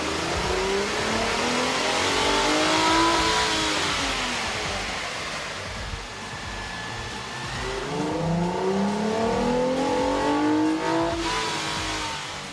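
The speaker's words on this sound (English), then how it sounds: "we ran the vehicle on the dyno to test the sound comparison versus the stock intake" A Ford Flex fitted with a K&N 77 Series cold air intake revs hard on a dynamometer, its engine note rising and falling through several sweeping climbs, loud and close with no talking.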